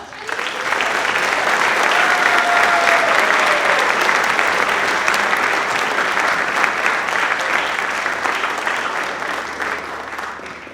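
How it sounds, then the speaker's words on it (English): Sustained, loud audience applause at a fine arts awards ceremony honoring students, a dense crowd clapping steadily for about ten seconds with no talk over it. "If we could give all of our students another round of applause."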